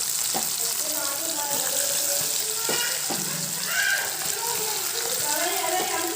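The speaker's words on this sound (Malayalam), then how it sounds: "എണ്ണ ചൂടാകുമ്പോൾ നമുക്ക് ഇറച്ചി ചൂടായിട്ട് നമുക്ക് ഇതിലേക്ക് നമ്മുടെ ബീഫിൽ കൊടുക്കാം." Marinated beef, masala-coated, frying in hot oil in a pan gives a steady crackling sizzle, with clattering stirs and occasional water-like sounds, heard close up at moderate volume.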